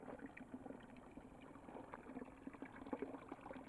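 Drinkable spring water trickling in a small wood, a faint continuous babbling and gurgling with soft bubbling pops, heard alone.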